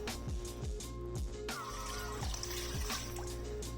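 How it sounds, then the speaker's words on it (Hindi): About a glass of water is poured into a cooking pan holding garlic and ginger for a mutton liver masala. The pour is a continuous watery splash and trickle with a few drip-like knocks, close and fairly quiet. "साथ इसके मैं डाल दूंगी 1 गिलास के जितना पानी"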